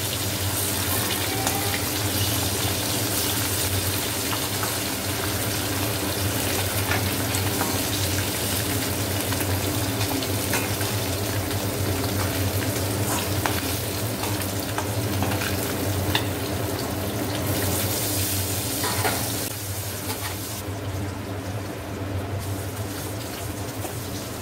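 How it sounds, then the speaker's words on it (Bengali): Fish and green chillies fry in hot oil with a loud, continuous sizzling hiss. The sound holds steady close by and eases off slightly near the end. No one speaks. "মাছ ভাজার সময় আমি চারটে কাঁচা লঙ্কাও ভেজে নেব"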